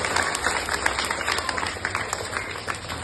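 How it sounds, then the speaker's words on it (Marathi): An audience of students applauds a teacher at a motivational speaking event, with dense, steady clapping from a large crowd continuing for about three seconds. "मॅडमसाठी एकदा जोरात टाळ्या वाजवा की या ठिकाणी"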